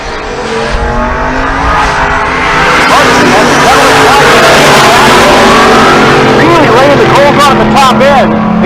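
A twin-turbo drag race car launches and roars down the strip at a Pueblo, Colorado race week, a loud revving engine note climbing and falling over a constant crowd wash, with an announcer talking over it.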